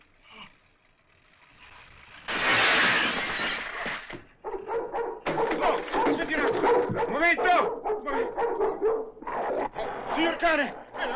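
A dog barks and yips repeatedly nearby, excited and uneven, mixed with a voice talking over it.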